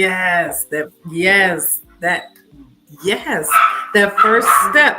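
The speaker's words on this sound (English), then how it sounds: "that the little chihuahua, she barking like crazy right now." A small chihuahua barks repeatedly and yips in quick bursts, close by and loud, with a person talking over and between the barks.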